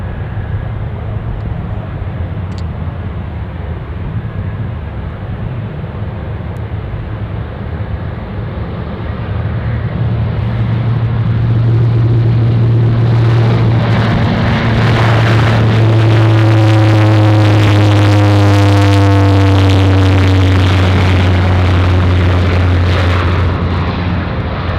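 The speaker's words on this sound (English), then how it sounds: "There goes the Dash 8s." A Dash 8 turboprop passes at Anchorage airport, its engine drone building from a distant rumble into a loud, close pass with a strong steady hum and a shifting, descending tone as it goes by.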